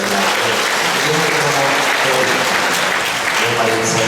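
A church congregation at Sunday Mass on vocations Sunday applauds in a dense, steady wash of clapping that stays loud and even throughout, with faint voices underneath.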